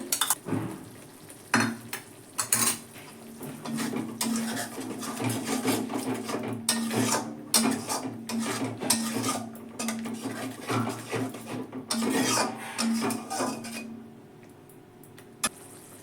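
A spoon scrapes and stirs steadily through thick yogurt and spice masala sizzling in oil in a pan, with frequent clinks against the metal, close up, no talking.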